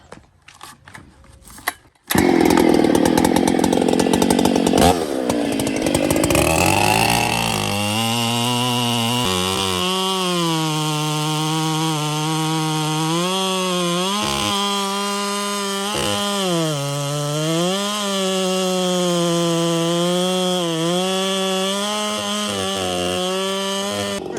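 A Husqvarna 395 chainsaw fitted with a 32-inch bar roars loudly and steadily as it cuts through wood, the engine pitch dipping and recovering under load after a brief start, with no talk.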